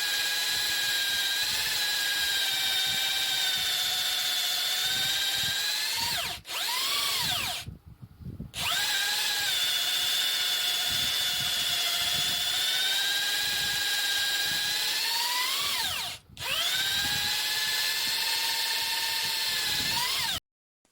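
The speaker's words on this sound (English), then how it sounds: "I am using a 2-inch hole saw and it doesn't feel happy. It is stalling and heating up." A power drill with a 2-inch hole saw whines loudly and steadily, twice stalling and cutting out briefly before spinning back up, with grinding chatter underneath.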